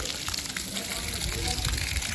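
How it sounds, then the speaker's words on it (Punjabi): Water gushes from a pipe to irrigate young saplings, a steady, close rushing flow with no break. "ਚਲਾਤਾ ਪਾਣੀ"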